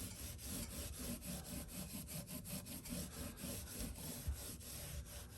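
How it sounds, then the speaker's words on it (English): Scotch-Brite pad rubbed back and forth across the frets of a cheap guitar's neck, a soft rhythmic scratchy scrubbing of quick repeated strokes, close and fairly quiet, no talking. "just take this Scotch-Brite across here"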